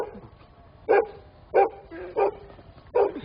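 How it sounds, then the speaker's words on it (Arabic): A dog barks four times in sharp, evenly spaced bursts, close and fairly loud against a quiet background. "برضه طلع من الكلب يعمل كده."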